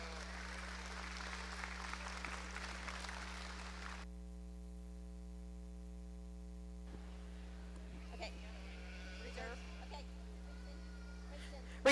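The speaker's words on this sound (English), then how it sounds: "let's give Cooper a big round of applause for coming to judge our show today" Audience applause at a 4-H champion sheep show at the Tippecanoe County Fair 2023 fills about four seconds, then cuts off. A steady electrical hum continues underneath, with scattered faint noises afterward.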